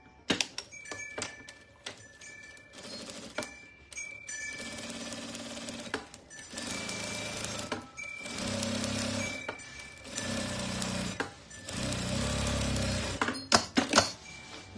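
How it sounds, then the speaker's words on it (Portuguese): A sewing machine stitches a seam on a fabric bread basket in several sustained runs of rapid mechanical chattering, with short pauses and clicks between the runs. "E agora eu vou fazer a segunda costura."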